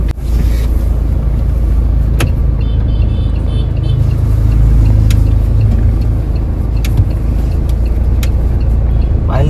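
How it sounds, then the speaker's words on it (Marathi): A child drives a car, its steady engine and road rumble filling the scene at constant loudness, with a few brief clicks and faint voices in the background. "प्रिशा लागली गाडी चालवायला."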